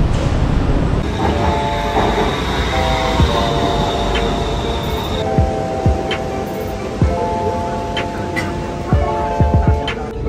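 Loud train ride on the Bangkok BTS Skytrain between Ekkamai and Siam, with steady rumbling rail noise, clicking wheels, and several long high squeals and tones ringing out over the carriage hum throughout.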